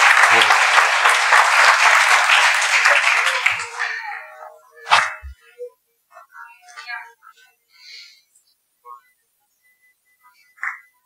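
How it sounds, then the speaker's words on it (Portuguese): A church congregation applauds loudly and steadily for about four seconds, then the clapping thins and dies away, leaving a few scattered claps and small shuffling sounds in a quieter room. "as palmas para Jesus"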